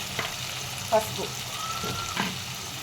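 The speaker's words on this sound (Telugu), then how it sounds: "కలుపుకొని ఫ్రై చేసుకోవాలి." Prawn curry masala fries and sizzles in a pan, with a steady hiss broken by a few scraping stirs of the spoon; a voice talks faintly over the cooking.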